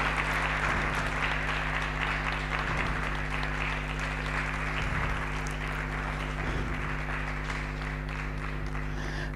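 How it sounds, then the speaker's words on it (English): An audience at a public leaders' alumni network gathering claps in a steady, moderately loud round of applause over a persistent low hum. "A round of applause, a round of applause, a round of applause."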